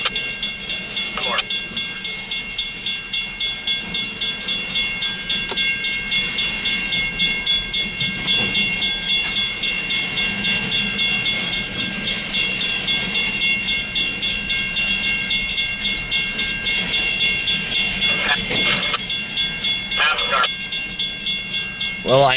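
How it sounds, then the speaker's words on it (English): A train rolls along railroad tracks with locomotives moving cars, a steady rhythmic clatter of wheels running continuously at moderate loudness, with brief higher tones cutting in now and then. "Well, I knew there'd be a train here today."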